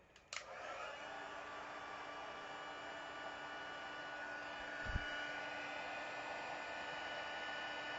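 A heat embossing tool hums in a steady close whir while melting embossing powder on a stamped card, starting with a click and running continuously and evenly throughout.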